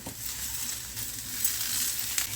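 Eggplant pieces fry in oil with a little Kashmiri red chili powder over a medium-high flame, stirred now and then. The sizzle is close, steady and hissing throughout, with no voices.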